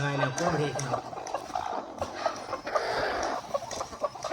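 Free-range chickens on a dung heap give short clucks and a few louder calls, heard close under almost constant nearby human talk.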